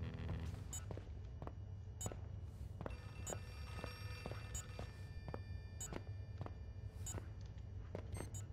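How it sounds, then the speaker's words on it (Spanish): A telephone rings inside a dark building in the horror video game Outlast 2, repeated bright bell-like trills at fairly regular intervals over a constant low droning ambience, faint and somewhat distant. "Oigo un teléfono, pero no sé ni dónde"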